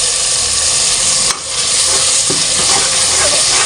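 Spices fry in ghee in a pan for a pea and egg curry, a steady close sizzle with scraping stirring strokes throughout, briefly dipping once before resuming.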